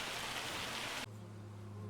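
Hail in the logging game Riverbend Springs pelting a surface as dense, steady rattling noise for about a second, then cutting out abruptly to a quiet low hum.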